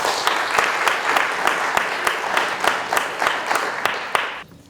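An audience at an elementary school honor society induction applauds steadily, with a few louder distinct claps standing out before the clapping drops away abruptly near the end.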